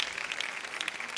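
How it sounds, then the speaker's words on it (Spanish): Studio audience applause on a television show, faint and steady, a thin patter of many hands with a few sharper claps and no voices. "Aplauso para la número 1."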